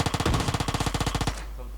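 Rapid automatic gunfire from a shooting video game, a loud close burst of about twenty evenly spaced shots that stops abruptly and leaves a steady hum.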